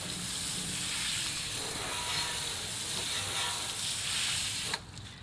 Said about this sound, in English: Go ahead and rinse this off here.